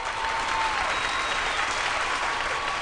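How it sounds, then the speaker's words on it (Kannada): A studio audience on a women's TV show bursts into loud, dense clapping that holds steady and close for the whole short burst, with no voices. "ನಿಮ್ ಚಪ್ಪಾಳೆ ಜೋರ್ ಸದ್ ಮಾಡ್ತಾರ ನೋಡೋಣ ಒಂದ್ ಚಪ್ಪಾಳೆ"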